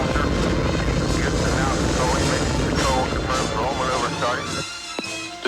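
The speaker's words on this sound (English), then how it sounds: "we have main engine start and ignition and liftoff" The STS-7 space shuttle's main engines ignite and it lifts off with a loud, sustained roar. Voices and announcer talk run over the rumble, which drops away abruptly near the end.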